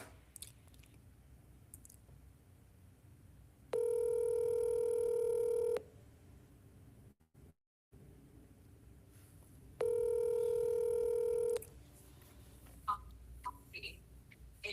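Two long, steady electronic telephone ringback tones, each about two seconds, are heard with a pause between them, loud and close over quiet room noise with faint handling sounds and a brief dropout.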